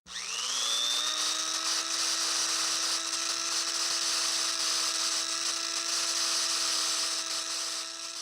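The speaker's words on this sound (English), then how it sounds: "turning the drill on right now" An electric drill whirs up to speed and holds a steady, high-pitched whine for several seconds, loud and close.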